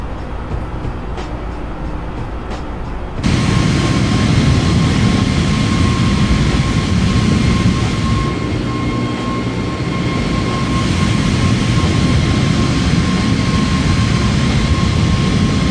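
An Airbus A320nx jet engine in Microsoft Flight Simulator, flying among mountain peaks near Paro. Quieter at first, then a loud, steady, broadband roar surges in and holds without letup.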